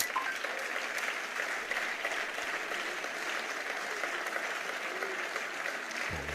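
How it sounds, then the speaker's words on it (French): An audience gives sustained, even applause, a continuous dense clatter of many hands that fills the room without pause. "Ah, ça applaudit."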